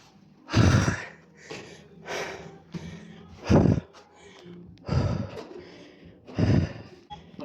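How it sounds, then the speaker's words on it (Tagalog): Heavy, loud breathing after climbing a high hill at a tourist spot in Ilomantsi, North Karelia, Finland: six strong gasping breaths about every second and a half, close to the microphone, with no talk during it. "Hingal talaga guys."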